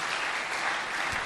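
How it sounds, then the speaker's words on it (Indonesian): Sustained applause from a youth Christmas church service audience, a dense, steady wash of many hands clapping throughout, fairly loud and with no talk over it. "Berikan lagi tepuk tangan yang paling indah bagi Tuhan."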